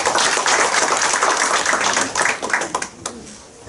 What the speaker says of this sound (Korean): 자, 박수 부탁드리겠습니다.